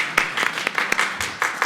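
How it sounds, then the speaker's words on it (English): Audience applause at a Comic Con panel on Broadway musicals, a short burst of dense clapping with sharp individual claps standing out, fairly close and steady throughout. "yes, we'll take the applause"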